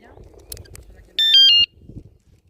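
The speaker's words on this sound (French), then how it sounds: "ça fait mode alarme aussi, et ça c'est en impression 3D aussi." An Angwatt T1 Max 72V or iScooter iX7 Pro electric scooter alarm set off by remote gives a brief loud electronic beeping burst of about half a second, with quiet handling noises before and after.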